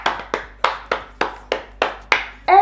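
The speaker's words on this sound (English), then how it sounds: "I need to give them a little clap" Nine sharp hand claps ring out one after another at a steady, fairly quick pace, close and clear, with no talking underneath.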